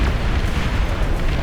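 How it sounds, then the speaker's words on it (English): Plasma cannons fire in a massive hundred-player real-time strategy space battle, a dense, continuous rumble of booming blasts that overlap without pause, loud and close. "The plasma cannons firing."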